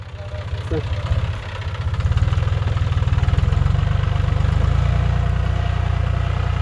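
A John Deere 5303 tractor engine idles nearby with a steady low, rhythmic chugging that rises slightly in level after a brief dip and then holds; a faint voice is heard over it early on.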